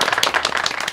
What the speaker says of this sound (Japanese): 温かい拍手ありがとうございます。